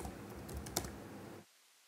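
Rapid, soft keystrokes on a computer keyboard, close and steady, stop abruptly into silence after about a second and a half.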